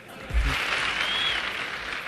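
An audience at a Safe Shop business seminar claps together. The applause builds after a brief thump, then holds as a steady, broad wash before easing slightly toward the end.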